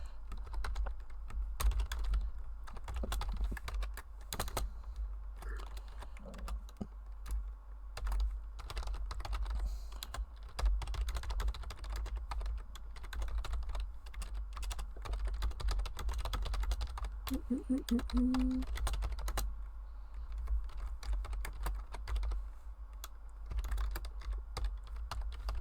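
Steady rapid typing on a computer keyboard, dense irregular clicks running throughout at close range, with faint low background hum and no clear speech.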